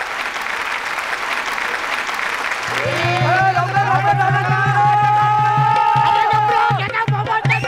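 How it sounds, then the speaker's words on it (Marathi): A stage comedy show audience applauds to welcome performers, a steady wash of clapping that grows louder partway through as sustained tonal sounds join in. "जोरदार टाळ्यांनी स्वागत करूया"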